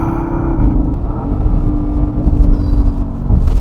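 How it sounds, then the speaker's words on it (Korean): Porsche Panamera GTS exhaust, a loud, deep rumbling burble with a held engine tone that shifts slightly in pitch, close by and steady throughout with no talk. "와, 배기 소리 뒤진다 진짜."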